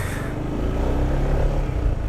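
A 2020 Yamaha Tricity 300 three-wheeled scooter accelerating, its engine a steady, fairly loud low rumble that builds evenly with road and wind noise, no talk over it.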